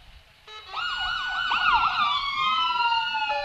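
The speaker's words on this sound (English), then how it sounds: "I believe those folks have fun running those sirens." Emergency vehicle sirens wail and whoop in overlapping, sweeping tones as rescue squad vehicles roll through a Floyd County Christmas parade, loud and close.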